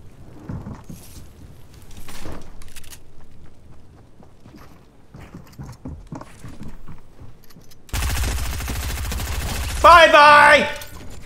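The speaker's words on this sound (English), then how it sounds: "Stop shooting me, man!" Video game gunfire in Fortnite, a dense burst of shots arriving suddenly late in the clip and staying loud to the end, after quieter scattered game noises and clicks.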